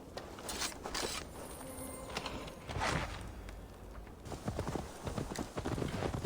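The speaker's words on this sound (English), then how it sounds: "Now to deliver Magni his horse." Horse hooves clip-clop at a walking pace in Assassin's Creed Valhalla, irregular thuds close by, with faint clinks and rustling in the background.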